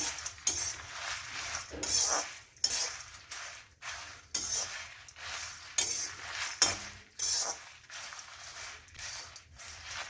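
Coriander seeds and red chillies dry-roasting in a pan give a run of close, repeated scraping and clinking strokes as the spice is stirred, with light crackle between the strokes and no voices.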